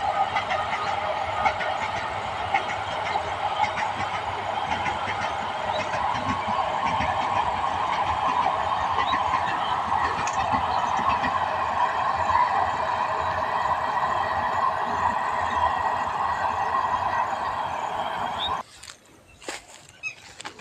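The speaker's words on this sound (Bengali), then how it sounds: "একটা ট্রেন, এইটা রামপুরহাট লোকাল, বর্ধমান থেকে।" A Rampurhat local passenger train from Bardhaman passes, a steady loud rumbling roar that holds for about eighteen seconds before cutting off abruptly, leaving quieter scattered sounds.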